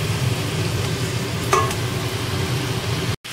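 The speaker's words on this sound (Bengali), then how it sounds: "এবার ভালো করে এটাকে আমি কষিয়ে দিচ্ছি" Spices sizzle and are stirred in hot oil for a jackfruit seed dhoka curry: a steady frying hiss with a brief scrape of the spoon midway, close and alone.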